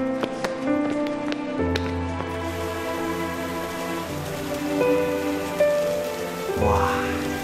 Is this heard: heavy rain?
yes